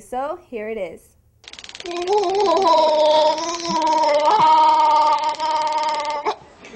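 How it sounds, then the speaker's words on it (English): A man being tasered lets out a long, loud, warbling howl with a rough, groaning quality, preceded by a brief spoken phrase and ending abruptly. "That is actually a man getting tasered who sounds like Chewbacca."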